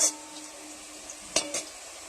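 Onions sizzle steadily in a hot pan while ginger-garlic paste is added for a ridge gourd, potato and katla fish curry, with a couple of brief utensil scrapes or clinks over the constant frying hiss.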